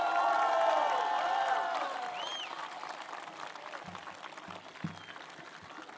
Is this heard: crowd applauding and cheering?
yes